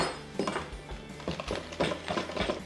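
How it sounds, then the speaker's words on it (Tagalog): A spoon stirs Korean pancake batter made from pancake mix in a bowl, giving quiet, uneven clinks and scrapes in a loose rhythm, close by. "Haluin na lang natin siya."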